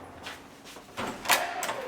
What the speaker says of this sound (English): Let's give it a knock.